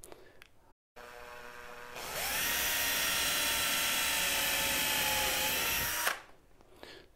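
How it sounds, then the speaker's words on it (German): An electric drill bores through a wooden shelf piece for a Toniebox shelf, whining up to a steady high-pitched drone for about four seconds, then winding down, with faint handling noise before and after. "jetzt halte ich mir jetzt einfach hier so ran und ich bohre durch"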